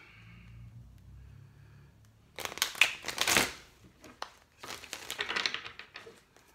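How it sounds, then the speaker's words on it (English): Papery riffling and slapping of tarot cards being shuffled in two bursts, close up, with quiet pauses between. "One more shuffle for Capricorns."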